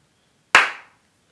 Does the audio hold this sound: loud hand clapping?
yes